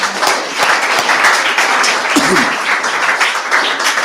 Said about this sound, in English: A big clap for our Chief.